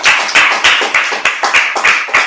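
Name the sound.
audience clapping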